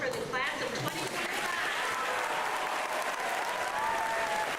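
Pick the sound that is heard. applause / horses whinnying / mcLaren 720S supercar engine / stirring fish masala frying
applause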